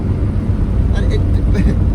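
A Jaguar E-Type cruising at about 40 mph gives a steady, loud engine and road drone with low rumble throughout, heard from inside the car, with speech over it.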